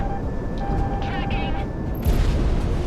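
Aircraft guns fire in Project Wingman during an air combat mission, a dense, continuous low roar of cannon fire blended with jet and engine drone and a few high cockpit tones, with a louder burst near the end.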